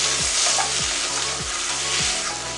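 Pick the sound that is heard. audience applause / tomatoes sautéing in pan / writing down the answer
tomatoes sautéing in pan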